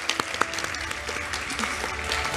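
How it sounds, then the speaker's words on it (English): Sustained applause from an audience at a university leadership awards ceremony honoring fraternity and sorority members, steady dense clapping with a few sharper claps standing out, moderately distant and filling the room. "If we could give those individuals a round of applause."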